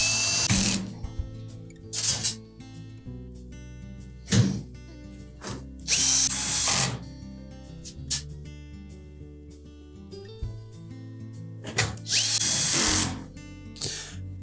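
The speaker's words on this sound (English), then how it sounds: "And then we'll just continue to put the rest of those screws in." A power drill drives screws into a Whirlpool range in repeated short bursts of whirring, with a ratcheting clutch, close and loud, separated by quieter handling noises.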